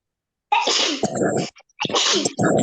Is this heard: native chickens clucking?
no